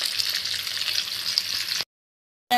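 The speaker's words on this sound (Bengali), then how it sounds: "দেখো আমি মাংসটা এরকম করেই ভেজে নিচ্ছি" Chicken pieces coated in flour and beaten egg frying in hot oil, a steady close crackling sizzle that stops suddenly partway, then briefly resumes.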